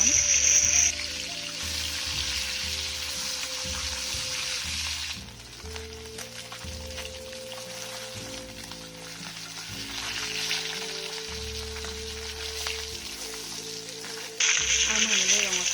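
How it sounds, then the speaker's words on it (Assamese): Fish pieces fry in hot oil in a kadai until reddish, a continuous bubbling sizzle that swells and fades at times beneath soft background music. "আৰু মই এনেদৰে ৰঙচুৱা হোৱালৈকে মাছখিনি ভাজি লৈছোঁ।"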